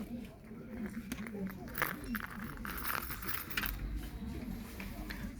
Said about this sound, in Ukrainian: Ключ, ключниця, да? Для ключів.